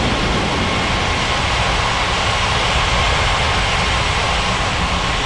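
Jet airliner taking off in an air traffic control video game at a Paradise Island airport, a loud, steady broadband engine roar sustained without pause.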